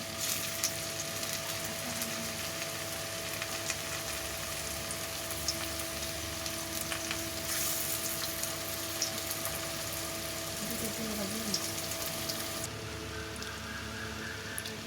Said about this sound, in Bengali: পনিরের পুর দেওয়া পাঁপড়গুলো খুব ভালোভাবে ভাজা হয়ে গেছে